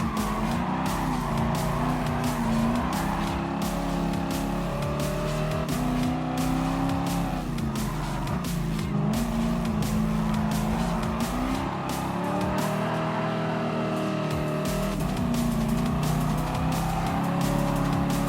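Race cars in Gran Turismo Sport, including a Dodge Challenger, roar steadily and loudly throughout, engine pitch rising and falling with gear changes as cars pass, with occasional tire squeal.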